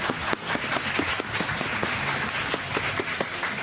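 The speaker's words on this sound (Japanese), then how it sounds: "選手の皆様へですね、大きな拍手を皆様いただいてよろしいでしょうか。" A room full of people clapping for the players at a Guilty Gear Xrd -REVELATOR- exhibition tournament, moderately loud and continuous, with individual claps popping out of the steady patter.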